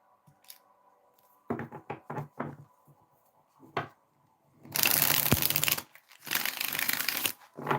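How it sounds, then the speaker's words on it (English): A deck of tarot cards is shuffled up close in quick, crisp bursts of riffling and slapping, separated by brief quiet pauses, with longer rustling runs toward the end. "I think I just shuffled that card in this deck."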